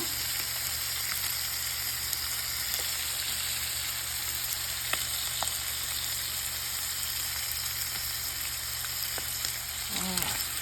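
Sardines and sweet peppers frying in a pot, giving a steady, even sizzle with a few faint clicks and a brief sound near the end, and no talk.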